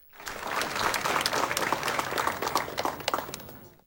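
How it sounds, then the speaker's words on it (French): Warm, sustained applause from a seated conference audience welcoming a deputy in a hall, a dense wash of many clapping hands that holds steady and fades out at the end. "je vous demande d'applaudir chaudement le député Jerry Tardieu"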